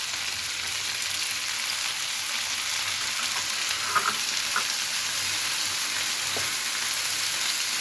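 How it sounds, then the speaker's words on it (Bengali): Chopped tomatoes and spring onion greens fry in a hot pan for a mashed rohu fish dish, giving a steady, even sizzle with a few soft stirring scrapes and no talking. "এটা ভাজা হোক।"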